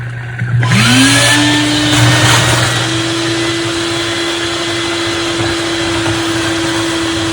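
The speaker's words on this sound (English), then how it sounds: "Hopefully, this will be eliminated by putting in this pump and pumping it out like this and vacuuming it." A vacuum cleaner sucking debris from a garden pond starts up and runs as a loud, steady, close whine with a rising motor tone, continuous to the end.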